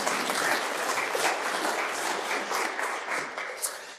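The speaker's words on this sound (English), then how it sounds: "give him a round of applause as well, if you don't mind" An indoor lunch-event audience breaks into a round of applause, dense clapping that holds steady for several seconds and then tapers off at the end.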